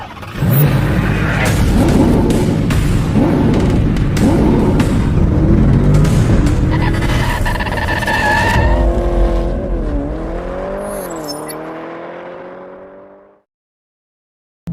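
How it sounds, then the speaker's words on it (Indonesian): A Daihatsu Rocky e-Smart Hybrid car drives loudly, with engine roar, rising revs and tire noise that build, then shift through gears and fade away near the end. "merasakan rasa berkendara dari Daihatsu Rocky E-Smart Hybrid"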